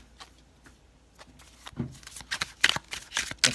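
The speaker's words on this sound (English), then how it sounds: "let's shuffle a little bit." A tarot deck is shuffled close by, soft riffling and slapping at first, then louder bursts of crisp card flutters and snaps toward the end, with no talking.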